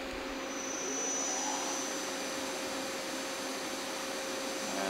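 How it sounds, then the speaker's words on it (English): Nakamura Slant 1 CNC lathe spindle spinning in reverse, giving a steady, continuous whirring drone with a faint high whine that holds level and close throughout, no talk. "Then I'll bring it back in reverse."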